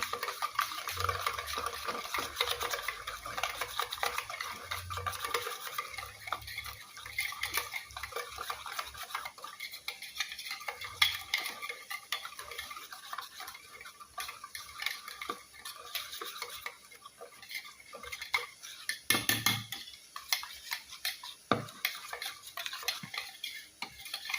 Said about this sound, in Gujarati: બધું બરાબર મિક્સ કરી લઈશું